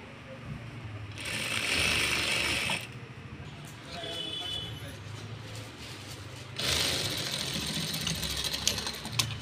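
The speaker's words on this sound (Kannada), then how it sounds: "ಫುಲ್ಲು ನಾನು ಹೊಲಿದ್ಬಿಡ್ತೀನಿ" Sewing machine stitching along fabric in two loud bursts with a quieter pause between, steady mechanical whirring and clatter, with faint talk underneath.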